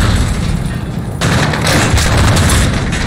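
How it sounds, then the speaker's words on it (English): Loud gunfire in Modern Warfare 2019, at the Gas Factory campaign finale, as a grenade launcher is fired: dense roaring blasts that swell suddenly partway through and stay intense to the end. "Let's use a grenade launcher like the game said."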